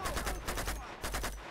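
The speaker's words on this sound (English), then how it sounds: "Hey, machine gun." Machine gun fire in the Uncharted video game: rapid, loud bursts of automatic shots in two dense volleys with a short gap between, close and continuous, with no talk.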